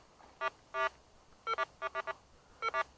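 A Go Find 40 metal detector gives its target signal as short, clear electronic beeps in irregular clusters, close and distinct over a quiet background.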